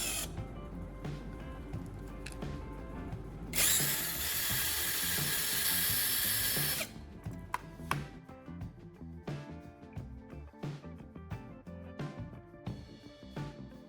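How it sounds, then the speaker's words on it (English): A small power drill whines loudly for a few seconds, preceded and followed by clattering, tapping and handling noises. "Next, we'll drill 2 small holes right here."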